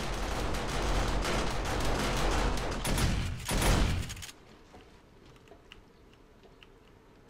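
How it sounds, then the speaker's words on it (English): Automatic turrets in 7 Days to Die spraying a dense, rapid stream of gunfire for about four seconds, then cutting off to quiet with faint scattered ticks. "Speaking of auto turrets."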